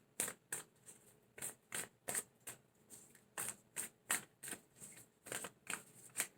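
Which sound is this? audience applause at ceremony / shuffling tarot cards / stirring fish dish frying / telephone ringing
shuffling tarot cards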